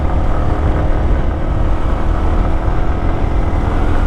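A Yamaha R15 V4 sports motorcycle on a short ride, with a continuous loud engine drone and rushing wind and road noise, steady and close, with no talking.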